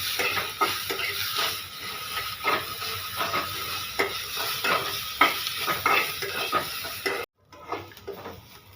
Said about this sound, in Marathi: आता मी यात ऍड करणार आहे थोडंसं लसूण आणि आलं। यालाही व्यवस्थित परतून घ्यायचंय कांद्यासोबत।